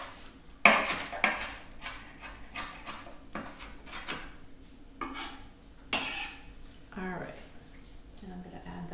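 Fresh cilantro is chopped with a knife on a cutting board, giving sharp, irregular taps and clacks spaced about a second apart, close and fairly quiet, with kitchen clatter between strokes.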